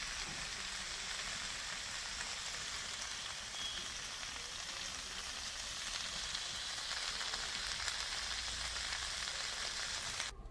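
Fried vegetables are stirred in a hot pan, giving a steady, even sizzling hiss that carries on without pause for about ten seconds.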